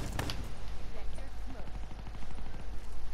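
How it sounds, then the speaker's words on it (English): Rapid bursts of gunfire strike a wall in a team deathmatch shooter game, a steady rattle of repeated impacts running throughout under a low rumble. "Somebody shooting the wall."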